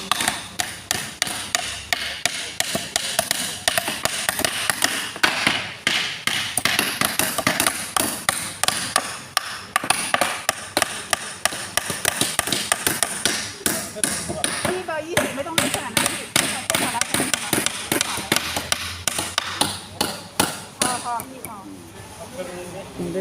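Hammering and nail pulling at a construction site: rapid, repeated sharp metallic hammer strikes in an irregular rhythm, close and loud, with workers talking over the work.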